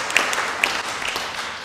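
Audience applause at a Board of Deputies of British Jews meeting, a steady crackle of many hands clapping throughout, moderately loud and fairly distant, with no speech over it.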